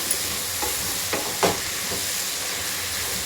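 Dal with added salt is stirred in a pan for sambar, giving a constant close sizzle broken by a few soft scraping strokes of the spoon.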